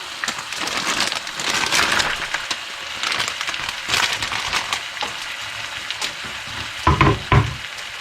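Wild boar and sugar snap peas sizzling in a hot stir-fry pan, a steady loud crackling hiss with stirring scrapes and a couple of sharper clatters near the end.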